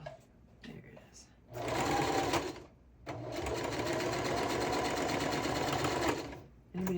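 Home sewing machine driven by a foot pedal, running in two loud, sustained whirring bursts of a few seconds each, separated by a short pause, heard close up.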